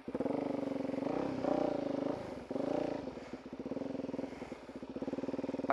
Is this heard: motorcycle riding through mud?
yes